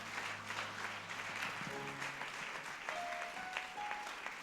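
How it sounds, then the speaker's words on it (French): Church congregation clapping together during worship, a steady even wash of applause throughout with faint sustained tones underneath. "Clap for God"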